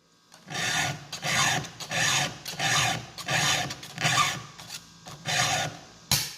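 A file rasps against a chainsaw chain in about nine even, rhythmic strokes, close and clear, with short gaps between each pass and a brief knock at the end.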